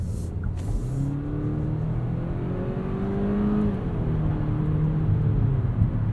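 Interior engine sound of a 2021 Genesis G80 2.5T AWD accelerating at full throttle in sport mode, a subdued, rising turbo-four hum with tones climbing through gear changes over steady road noise, fairly quiet and without speech.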